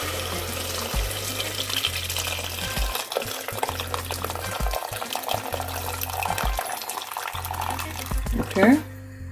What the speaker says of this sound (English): We're going to add about 4 cups of boiling water.